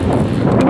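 An electric fan running on speed setting 5 gives a loud, steady rush of blowing air close to the microphone, with a broad windy roar and no talking, over a brief stretch.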